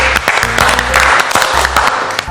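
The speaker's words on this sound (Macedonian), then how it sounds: "Пред се голем аплауз за Стефан Јаневски" Audience applause in a studio during a Macedonian culinary reality show, a steady dense patter of clapping filling the whole stretch, fairly loud and close, with low background hum.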